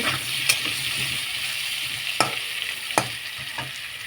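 Fish curry ingredients with homemade amchur sizzle in a pan over low heat, with a soft frying hiss and a few sharp scrapes and clacks of stirring spaced irregularly, close and fairly quiet.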